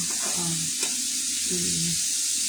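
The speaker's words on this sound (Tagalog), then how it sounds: "Ayan nga yung manok na hiniwa kanina. Prito na niya." Chicken pieces fry in oil, sizzling loudly and steadily with a constant crackling hiss and a couple of faint low hums underneath.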